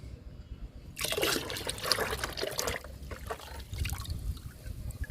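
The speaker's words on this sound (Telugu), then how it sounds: "చామంతి మొక్కల వరకు ఈ లిక్విడ్ ఇస్తున్నాను" Liquid fertilizer poured onto potted chrysanthemum plants, a steady splashing trickle that starts after a second of quiet and runs for a couple of seconds before thinning into softer dribbles, close by with no talking.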